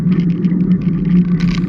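A bicycle wheel's worn bearings give a low, steady grinding hum that drones continuously, with a faint rhythmic ticking and rattling on top, heard close up.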